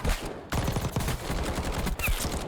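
Sustained automatic fire from the AMAX rifle in Warzone, a dense, continuous rattle of rapid shots with a brief break partway through, loud and close with no talk.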